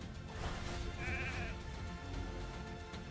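A sheep bleats in the Raid Shadow Legends game, a single wavering bleat rising clearly over a dense, busy bed of game sound effects and music.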